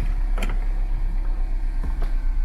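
A car idles and rolls steadily during a speed sensor test drive, a continuous low engine hum with a couple of brief mechanical clicks and thumps, close and without speech.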